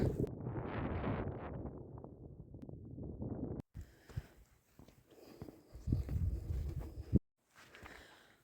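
Gusty wind buffets the microphone in low rumbling bursts near Hadrian's Wall in England, with outdoor rustle and a few brief dropouts.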